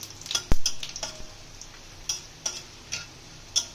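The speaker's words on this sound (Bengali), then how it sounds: "ফোড়নগুলো একটু ভেজে নেব।" Light crackling and popping of dried red chillies and whole cumin frying in hot oil, with a sharp tap early on and a series of irregular ticks and spatters.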